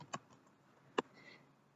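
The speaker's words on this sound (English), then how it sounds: "I just started typing lookup wizard, and when it came up, I hit the enter key" Two separate keystrokes on a computer keyboard, spaced almost a second apart, quiet and close with a faint room hum between them and no voices.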